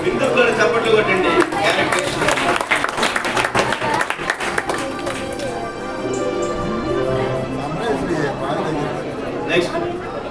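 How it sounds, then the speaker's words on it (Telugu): An audience claps at a church women's fellowship skit, a dense burst of many hands that thins out after a few seconds while voices talk over the room. "ఇందుకు కూడా చప్పట్లు కొట్టండి."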